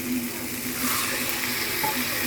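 Tamarind water hits a hot pan for a fish gravy and sizzles hard, a loud, continuous hiss and crackle of frying liquid close by.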